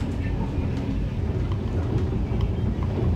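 Inside the Maitree Express as it runs through Joydebpur station near Dhaka, a loud, steady low rumble and roar of the moving train fills the space with no distinct horn or clatter standing out.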